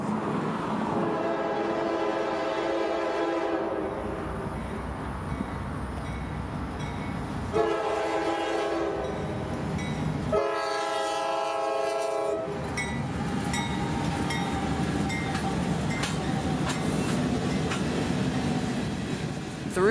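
A freight train led by a three-locomotive lashup pulls Tropicana refrigerated reefer cars past through Dade City, Florida, its horn blaring in several loud blasts over a steady rumble and clatter of passing cars.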